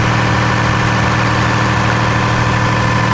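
A diesel engine idles steadily after its fuel system was primed with an electric motor, a loud, close, unbroken low rumble with constant vibration throughout and no voices.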